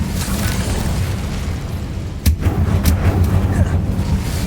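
An Incendio fire spell cast in the Hogwarts Legacy video game, a sharp burst followed by a rumbling fiery whoosh over dense, loud combat noise and game sound.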